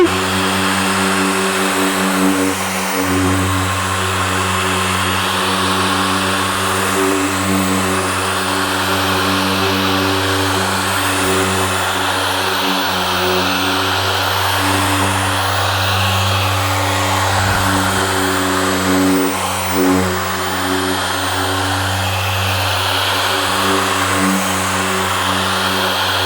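A Harbor Freight Bauer 6-inch dual action polisher running on a car at a high speed setting, a constant loud motor whine and buffing drone with slight pitch wobble, no talk.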